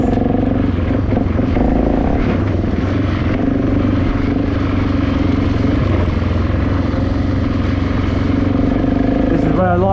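Dirt bikes, including a BMW Sertao and a DRZ400, ride a very bumpy trail with a loud, steady engine roar and rattling clatter throughout, close to the rider.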